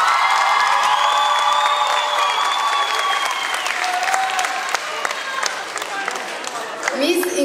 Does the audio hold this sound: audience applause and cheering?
yes